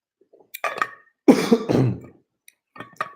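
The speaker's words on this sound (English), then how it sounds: "Sorry if that's loud, guys. The cough." A person coughs and clears their throat in several short, close, loud bursts separated by brief silences, with no talking.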